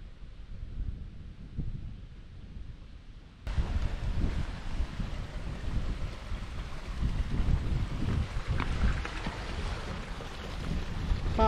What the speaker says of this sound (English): even at this low level, it is brutally windy